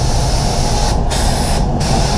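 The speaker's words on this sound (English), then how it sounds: "once he finishes spraying." A spray gun applies clear coat to an Opel Insignia, giving a loud, steady close hiss that breaks off twice briefly as the trigger is released and pulled again.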